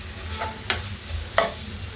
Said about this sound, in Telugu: ఒకసారి బాగా కలిపేసుకుందాం. ఇప్పుడే కొంచెం ఆయిల్ రిలీజ్ అవుతుంది